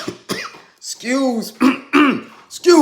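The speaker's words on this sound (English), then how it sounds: "Let me clear my throat." Someone clears their throat with a few rough, close-up rasping bursts that blend into voiced sounds.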